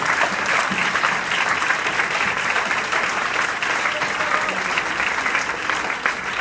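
Sustained applause from a church congregation during a Spanish-language sermon, many hands clapping in a thick, unbroken stream that holds steady from start to finish, with faint voices mixed in.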